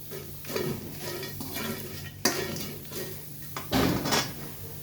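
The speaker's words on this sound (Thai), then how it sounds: "คั่วจนกว่าเครื่องจะหอมนะคะ เครื่องสมุนไพร หอมก่อนถึงจะได้นะคะ" Thai herbs dry-roasting in a pan for grilled catfish tom khlong, heard as dry scraping and stirring strokes with a couple of sharper knocks, close and moderately loud, with no talking.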